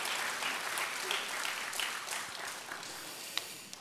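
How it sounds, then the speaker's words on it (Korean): A church congregation at a Friday evangelism meeting applauding, a steady, fairly soft patter of many hands clapping together that gradually thins toward the end, with a couple of sharp single claps standing out. "다시 한번 박수로 하나님께 응원을 드리겠습니다."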